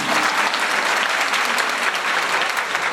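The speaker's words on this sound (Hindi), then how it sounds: "खुदा के खासों के लिए जोरदार ताली कीजिएगा।" Congregation at a one-day Christian faith seminar in Pakistan breaking into dense, steady applause, many hands clapping together at close range with a faint murmur of voices beneath.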